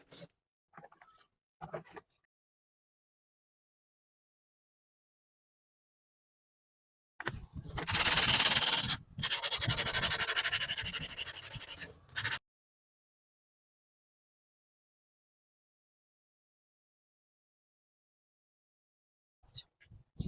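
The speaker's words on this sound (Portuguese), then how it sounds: "Assim é bem prático e você acaba lixando todas as partes de uma vez só." Dry, gritty scraping of sandpaper rubbing over a concrete vase in a few sustained bursts, with quiet gaps before and after.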